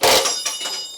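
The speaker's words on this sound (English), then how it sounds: "That was just my wrench." During a car restoration, a metal wrench gives one sharp, loud clank close by, followed by a bright ringing that fades over about a second.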